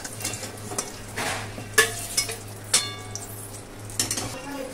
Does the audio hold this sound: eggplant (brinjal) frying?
yes